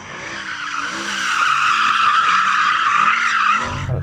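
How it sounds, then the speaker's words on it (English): A Mercedes-AMG SLS Black Series spins its tyres to warm them, giving a sustained loud screech of tire squeal that swells and holds for several seconds, heard without speech. "Do you want to warm up your tyres in the AMG?"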